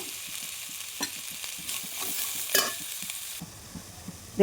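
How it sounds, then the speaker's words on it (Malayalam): Onions and chicken masala ingredients frying in a pan for an old-style biryani: steady sizzling with repeated scraping stirs of a spoon against the pan, close and clear, a brighter clatter near the end. "ഈ ചട്ടിലോട്ട് തന്നെ നമ്മൾ ചിക്കൻ തയ്യാറാക്കുന്നതിന് വേണ്ടുന്ന സാധനങ്ങൾ ഉള്ളിയൊക്കെ ചേർത്ത് കൊടുക്കുകയാണ്"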